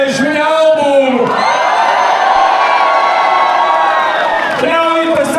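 At a rap battle final in Latvia, a large crowd cheers and shouts loudly and continuously, with whoops and yelling rising and falling, and a voice breaks in briefly near the start and end.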